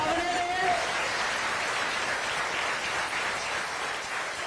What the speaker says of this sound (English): Let's give Mariana and Demario another round of applause